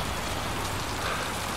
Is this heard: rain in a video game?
yes